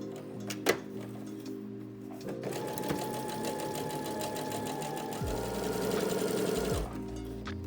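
A sewing machine straight-stitches the hem of a 90s-style mini skirt, running in a steady mechanical whir. A short start is followed by a longer continuous run that stops near the end.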